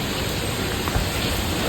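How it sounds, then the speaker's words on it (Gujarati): Steady, dense rain falls in a village, a continuous broadband wash of sound with no other noises over it. "શું વરસાદ ચાલુ છે યાર"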